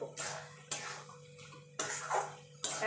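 Carrot halwa with ghee-fried cashews and almonds stirred in a pan, a few loud scraping strokes of a spoon against the metal separated by short pauses, no one talking.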